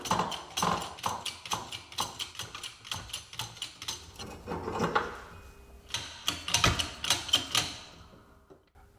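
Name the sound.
ratchet with socket extension removing ball joint bushing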